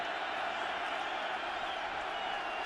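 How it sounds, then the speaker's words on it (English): Stadium crowd at a 49ers at Seahawks NFL football game, a dense continuous roar of cheering that stays steady and loud throughout. "Crowd getting into it."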